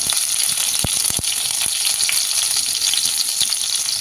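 Mustard seeds, cumin and chilli pieces sputter in hot oil during tempering. A steady close sizzle runs throughout, with a few sharp pops from spattering seeds.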